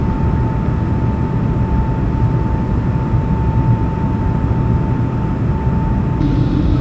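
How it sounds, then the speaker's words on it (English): A Boeing 757 airliner in flight makes a constant, loud, broad roar with a steady hum through it, unbroken for several seconds. "This craft is a 757, a Boeing"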